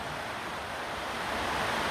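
Steady rain falling outdoors while a Fordson Major tractor's fuel lift pump is replaced, a continuous broad hiss of even loudness with no voices.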